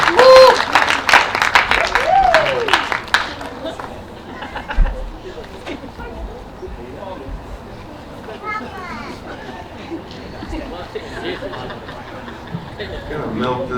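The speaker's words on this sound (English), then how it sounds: "a nice round of applause for father of the bride" Wedding guests applaud the father of the bride, with loud clapping and cheers for the first few seconds that fade into a murmuring crowd with laughter and scattered talk.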